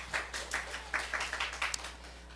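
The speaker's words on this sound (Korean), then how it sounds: "우리 하나님께 박수 올려드려요" Members of a church congregation at a Monday morning Korean worship service clap several times, quick sharp claps in loose uneven bursts over about two seconds, fairly faint and heard from a distance in the room with a low steady hum underneath.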